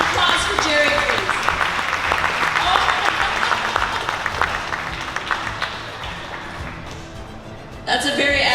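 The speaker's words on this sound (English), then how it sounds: "Round of applause for Jerry, please." An audience at a motivational talk about making comic books gives a full round of applause that gradually thins out. A voice cuts in near the end.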